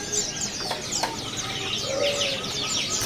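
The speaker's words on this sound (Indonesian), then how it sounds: "Ready hari ini burung anis kembang." Inside a bird shop, an orange-headed thrush sings among caged birds. Bright overlapping chirps and whistled phrases come from several birds at once at moderate loudness, with a short fluttering sound and a few low calls under the song.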